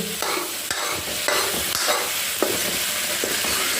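Mixed vegetables with cauliflower being stirred and fried in a pan, with steady sizzling under repeated scraping strokes of a spoon, close and fairly loud, with no voices.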